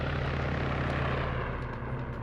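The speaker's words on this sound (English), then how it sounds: "after a team lands, send the helicopter over" Helicopter rotor and engine drone from a military video game, a steady loud throbbing hum that fills the clip from start to finish with no break.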